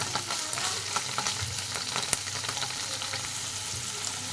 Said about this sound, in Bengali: পনিরটা ভাজা হয়ে যাচ্ছে